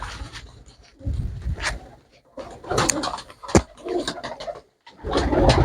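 Low, throaty pigeon coos come in several separate bursts with short pauses between, fairly close by.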